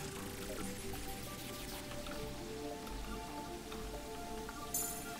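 Rain in the Terraria video game, a soft steady patter of drops and drips at low volume with no talk over it, plus a brief brighter sparkle near the end.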